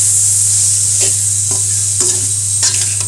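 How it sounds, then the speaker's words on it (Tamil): Masala with turmeric and garam masala sautés in a pan for egg fried rice, a loud continuous sizzle with a few scraping stirs of a spoon, close by. "இப்போ இது எல்லாத்தையுமே சேர்த்து நல்லா வதக்கிக்கலாம்."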